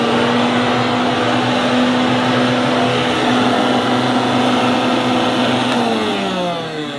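Hoover 2614 Dustette handheld vacuum cleaner with a metal body running, a loud steady motor drone with a constant hum, tailing off slightly at the end.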